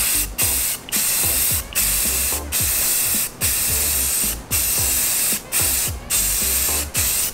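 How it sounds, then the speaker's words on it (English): Spray paint hisses onto a C10 mini bike's white walls in loud, close bursts of about a second each, separated by brief pauses, around eight passes in a row. "Cool, let's spray it."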